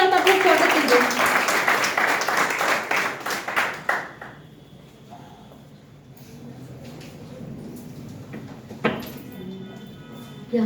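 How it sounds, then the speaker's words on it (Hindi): Audience clapping in welcome at a B.Ed. department seminar, loud and dense for about four seconds, then thinning to scattered claps and room noise with a brief burst near the end. "जोरदार ताली के साथ आपका स्वागत कीजिए।"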